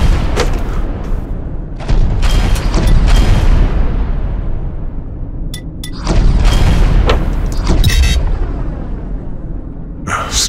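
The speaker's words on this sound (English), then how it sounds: "Stupid auto guns doing friendly fire." Auto guns fire in the space combat game Infinity Battlescape, heavy booming bursts coming in repeated loud volleys with sharp crackling shots between them, rolling off into rumbling decays.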